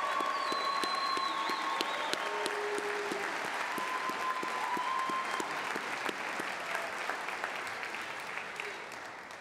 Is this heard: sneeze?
no